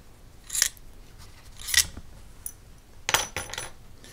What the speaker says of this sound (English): remove all four of the bolts that are going around